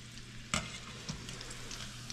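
Arancini rice balls fry in hot oil with a soft, steady bubbling sizzle. One sharp clack of a utensil stands out early, followed by fainter knocks.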